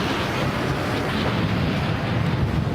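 Strong wind roars across flat open ground during a bicycle ride, a loud, continuous broadband buffeting rush on the microphone with no speech.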